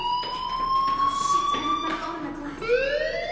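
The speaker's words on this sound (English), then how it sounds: "Hey, do you hear that fire alarm?" In Life Is Strange, a fire alarm sounds as a sustained electronic tone that bends in pitch, steady and fairly loud, with a voice speaking faintly beneath.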